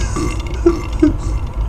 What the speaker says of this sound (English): they just burp every time they get hurt